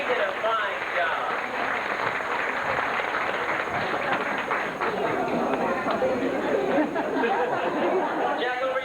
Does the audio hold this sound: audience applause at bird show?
yes